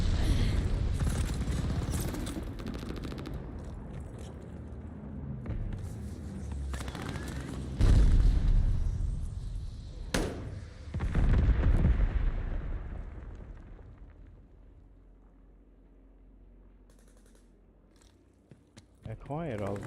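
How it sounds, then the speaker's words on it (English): An enemy glide bomb explodes in a shooter video game, setting off a string of heavy blasts and booming impacts over roughly half a minute, mixed with gunfire and louder bursts midway before the noise fades. "glide bomb incoming"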